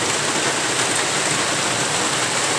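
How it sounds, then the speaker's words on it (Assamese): Steady, loud rain pours down near a roadside shelter by a bridge on the Meghalaya border, a dense unbroken hiss across the whole moment with no voices. "বৰষুণ এৰিলে যাম বা নিৰিলেও যাম ছাতি আছে আমাৰ লগত"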